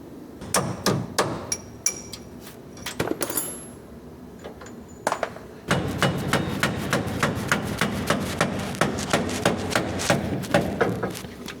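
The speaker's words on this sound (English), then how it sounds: "Hammer and punch that out, isn't it?" Sharp metallic hammer strikes on a punch driving out a seized part on a classic Mini, irregular at first, then a steady run of repeated blows.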